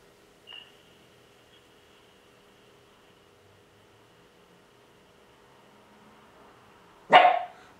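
A dog gives one sudden, loud bark indoors near the end, after a long stretch of faint, quiet room noise.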